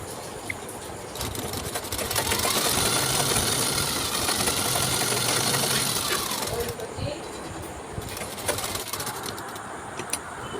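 A sewing machine runs steadily while stitching the lower hem of a trouser cuff with a double seam, a continuous mechanical whir lasting most of the clip and easing off toward the end.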